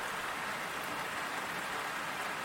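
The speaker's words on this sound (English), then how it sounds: "pouring rain" Heavy pouring rain, a dense, steady hiss of falling water with no letup and nothing else heard.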